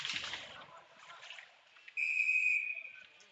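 Referee's whistle at a boys' varsity ice hockey game, a single sustained shrill blast of about a second rising over rink and crowd noise as play stops for a tripping call.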